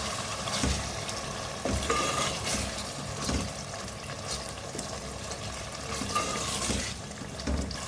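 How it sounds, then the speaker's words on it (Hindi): A spoon stirs onions and beef frying for korma in a pot with a splash of water, giving sizzling and repeated scraping strokes in an uneven rhythm, close and alone without talk. "मिक्स करेंगे इसको"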